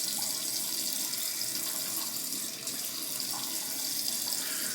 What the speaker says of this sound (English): Just going to get some warm water up on the face.